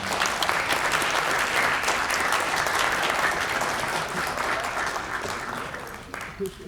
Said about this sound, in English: give your families, your supporters, and your staff a good round of applause for all the help they've given you